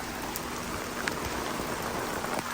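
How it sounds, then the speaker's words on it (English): Steady rain falls outdoors in Westhampton at a house under construction, a dense, even hiss of drops spread across the whole clip at moderate level, with no voices over it. "and then sure enough, it did start raining."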